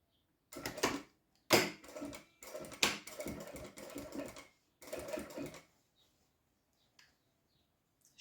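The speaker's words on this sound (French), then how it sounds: "Alors, je commence à piquer." Sewing machine stitching fabric for a simple door stop project, several loud bursts of rapid mechanical whirring separated by pauses, the last run stopping before a quiet stretch with faint clicks.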